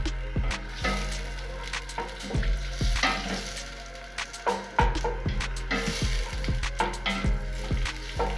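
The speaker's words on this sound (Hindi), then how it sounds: "अब इसको ब्राउन होने तक पकाएं।" Biryani ingredients for a potato and peas biryani fry in a pan until browned, giving a steady close sizzle broken by frequent scraping stir strokes and clacks of a utensil against the pan, with no voices.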